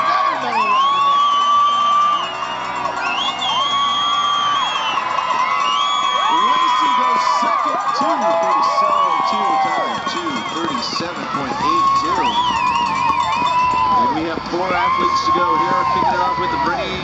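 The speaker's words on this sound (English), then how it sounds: "crowd, let's cheer her on" A large crowd cheers, whoops and shouts continuously for a skier descending the course at Snow Basin in light snowfall, a loud, sustained roar of voices with rising yells and calls throughout.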